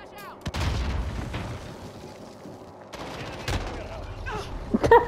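Enemy gunfire in Call of Duty: Modern Warfare: loud bursts of rapid shots and booming reports crack out across a few seconds, near and punchy, with a short lull in the middle.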